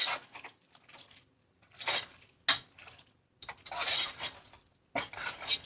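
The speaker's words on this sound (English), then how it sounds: "Now we're going to get just a regular spoon. Stir through it." A regular spoon stirring creamy cheese sauce through macaroni in a pan, intermittent scraping and clinking strokes against the metal, close up with short pauses between stirs.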